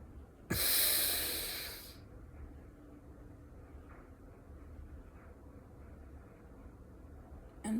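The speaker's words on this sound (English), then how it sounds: "And breathing out." A single deep, forceful exhalation during a guided breathwork practice for chakra clearing, a loud rushing breath lasting about a second and a half, then quiet room tone.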